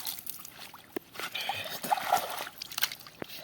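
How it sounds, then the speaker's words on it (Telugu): Water is poured and sloshes in short, uneven splashes and trickles, close by, with quiet gaps between the pours. "మంచి బాగా నీళ్ళు పోసుకొని"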